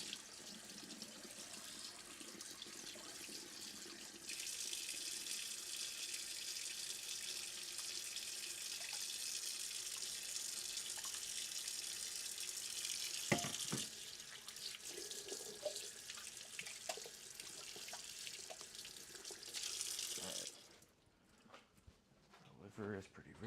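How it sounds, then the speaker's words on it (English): A kitchen tap runs steadily to rinse liver soaked in milk, a loud, constant water rush lasting about sixteen seconds before cutting off, with quieter handling sounds around it. "Rinse it off."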